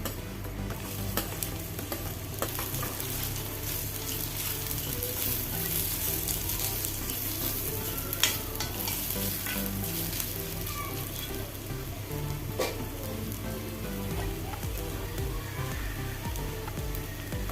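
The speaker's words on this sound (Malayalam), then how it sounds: "എണ്ണ ചൂടായി നമുക്ക് മാങ്ങ ഇഞ്ചി ഒന്ന് വാട്ടിയെടുക്കണം" Mango ginger sautés in hot sesame oil for a pickle, with a continuous close crackling sizzle and occasional stirring clinks throughout.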